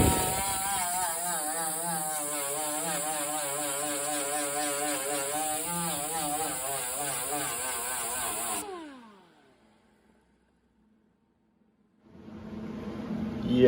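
Power tool grinding rusty sheet metal out of the bed of a 1984 Nissan 4WD pickup, a steady loud whine that runs continuously for about eight seconds, winds down, falls silent, then starts up again near the end.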